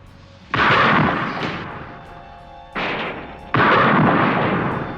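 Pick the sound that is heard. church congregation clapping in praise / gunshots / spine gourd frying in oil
gunshots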